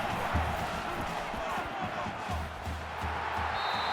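Stadium crowd noise from the NCAA 14 college football video game forms a dense, continuous roar with low thumping, heard beneath play-by-play commentary during a third-down situation.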